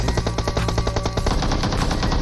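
A rapid burst of automatic gunfire from a PUBG short film, with fast, evenly spaced shots rattling loud and close for about two seconds.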